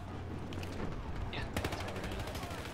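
Gunfire in the video game Battlefield Hardline, a burst of rapid shots that gets louder and denser toward the end, under a steady game background.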